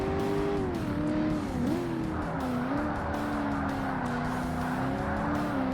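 A Corvette engine droning steadily in Forza Motorsport during a classic sports car race, a sustained tonal roar whose pitch slides and wavers as the car shifts and revs, with other race cars audible behind it.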